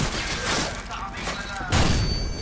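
A flashbang grenade goes off in Call of Duty: Modern Warfare as a loud, broad burst near the end, with game noise and voices before it.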